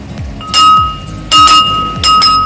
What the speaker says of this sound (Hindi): घंटी की आवाज़ सुनाई दे रही होगी।